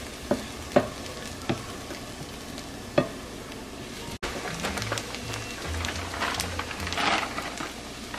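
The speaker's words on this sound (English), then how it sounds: "Make sure to saute the onion and garlic mixture well" Onion and garlic sauté in a pan for upma, a soft steady sizzle punctuated by a few sharp utensil taps early on, then busier stirring and scraping with brief low knocks toward the end.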